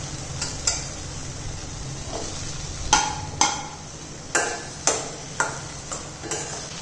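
Drumsticks going into a pot of cooking tomato gravy, stirred with a spoon: several sharp, spaced metal taps and scrapes against the pan over a steady low sizzle, no voices.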